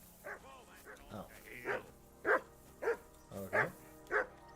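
A dog in Kingdom Come: Deliverance 2 barks in a string of about seven sharp, fairly close woofs at an uneven rhythm, standing out clearly against a quiet background.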